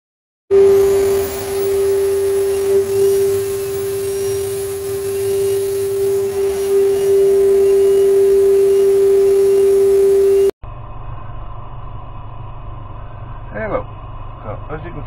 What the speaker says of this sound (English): I've got my 6-inch vacuum chuck set up. That's the Venturi pump that creates